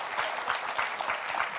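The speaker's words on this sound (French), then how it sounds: "Le public vous applaudit." A studio audience at a French talk show claps in a steady burst of applause, a dense crackle of many hands at moderate distance.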